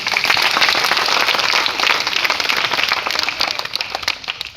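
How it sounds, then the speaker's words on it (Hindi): A crowd at a school gathering in Ramnagar gives a round of loud applause for Swami ji, dense continuous clapping that stays strong for several seconds before tapering slightly at the end. "एक बार वही स्वामी जी के लिए जोरदार तालियां"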